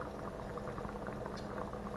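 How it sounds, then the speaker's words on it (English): Beef stew bubbles steadily in a pot, a continuous soft simmering patter of popping bubbles, close and fairly quiet with no talk. "So you can see the stew is bubbling away nicely."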